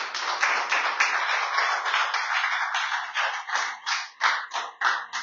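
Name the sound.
congregation applause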